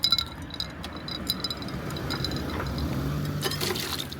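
A glass is rinsed under running water at a public spot in Ozu's castle town, light clinks and splashes up close over a steady trickle, with no talking.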